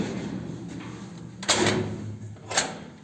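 Bitek lift doors opened by hand, two mechanical clunks about a second apart, close and moderately loud over a steady low hum.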